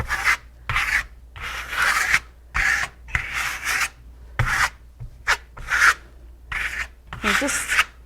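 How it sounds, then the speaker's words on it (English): A putty knife scrapes excess Shimmer Stone decorative plaster and trowel marks off a wall, producing a series of close, rasping strokes in a steady repeating rhythm, about a dozen in all. "And just scrape off any trowel marks that you've got on there, any excess Shimmer Stone that might be on the surface."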